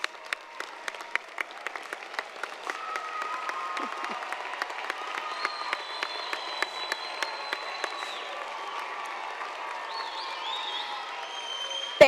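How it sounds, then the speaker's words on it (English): Graduates at a 6 p.m. commencement ceremony applaud their loved ones, sustained crowd clapping filling a large hall for about twelve seconds, steady and even with scattered louder claps and no speech over it. "Stand and give them a round of applause."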